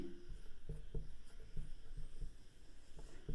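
Pen scratching and tapping on paper while a profit rate calculation is written out, close and quiet strokes in an uneven rhythm.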